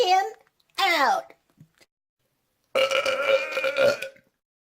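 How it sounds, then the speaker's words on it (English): Loud, close burps come in three bursts, two short croaking ones with falling pitch and then a long, drawn-out rumbling belch, each separated by silence. "Burp."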